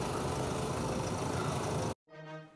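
A tractor engine strains to pull a stuck car in the rain, a dense, steady roar that cuts off abruptly, followed by a quieter, lower hum.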